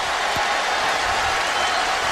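Loud stadium crowd roaring steadily at a college football game, TCU at Baylor in 2011, the dense broadband noise sustained throughout as fans push an inexperienced offense into a false start.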